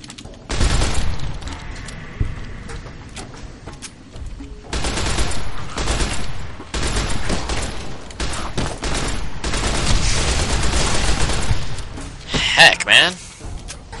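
Bursts of rapid gunfire in Fallout: New Vegas, loud volleys broken by short pauses, with occasional heavier thumps and a person talking over the shooting.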